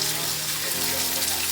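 Vegetables with ginger and garlic sizzle in a hot pan while being stirred, a steady close hiss of frying with no pauses over a brief moment.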